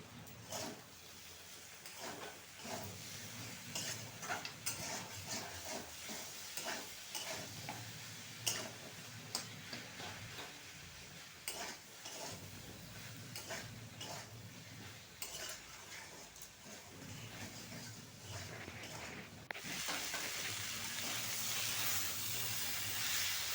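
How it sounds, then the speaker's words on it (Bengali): Tomatoes fry in a pan with a steady hiss, while a utensil scrapes and ticks against the metal in quick, irregular strokes, close up, with the sizzle swelling louder near the end. "দেখো, সুন্দর করে ভেজে নিচ্ছি, কেন কি টমাটাগুলো একটু নরম হবে, তো ওর জন্য ভেজে নিচ্ছি"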